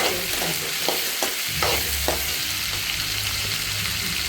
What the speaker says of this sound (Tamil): கடலைப்பருப்பு நல்லா வதங்கினதுக்கப்புறம் வெங்காயம் எல்லாம் போட்டு நல்லா மிக்ஸ் பண்ணி